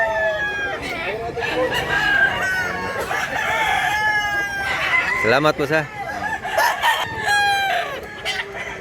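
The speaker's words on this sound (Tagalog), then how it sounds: "Dami ng manok mga idol." Several roosters crow loudly and repeatedly among a flock of gamefowl at a hatchery farm in Mantalungon, Cebu, overlapping with clucking, while someone speaks briefly.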